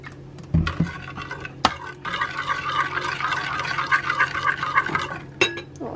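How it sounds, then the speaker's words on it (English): Water splashed into a soy sauce and sesame oil tteokbokki sauce in a home kitchen, with a short pour among clinks of utensils and dishes, a brief stir, and a sharp clatter near the end. "Just a splash of water for now."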